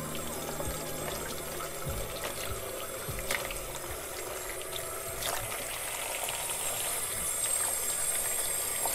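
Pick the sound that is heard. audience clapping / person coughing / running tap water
running tap water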